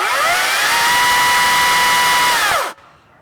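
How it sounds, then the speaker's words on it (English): A Green Machine battery chainsaw runs close by at a steady, fairly quiet electric whine for about two and a half seconds, then winds down and stops, leaving near silence. "a regular chainsaw is a lot louder than this, so I've been happy that this is as quiet as it is"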